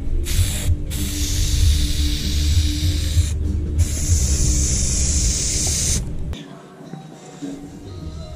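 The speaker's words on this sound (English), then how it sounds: "then I'm going to use some spray glue, glue it down" A can of spray glue hisses continuously at close range for several seconds while working on a trailer, broken by brief gaps, then stops abruptly.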